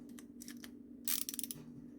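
A ratchet tightens the emulsion tube during Rotax Max carburetor assembly, producing a few quiet close clicks followed by a brief burst of rapid ratcheting over a low background hum.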